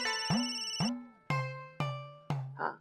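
An incoming-call ringtone on a phone in a Marathi TV serial: a quiet melodic chime of about six bell-like notes struck one after another, each ringing out and fading, with no voices.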